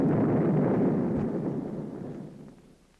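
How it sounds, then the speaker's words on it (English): A Mark 45 torpedo warhead detonates at its burst point, a single deep, loud rumbling roar that fills the clip from the start and slowly fades over about three seconds, with no voices. "At the burst point, the warhead is detonated."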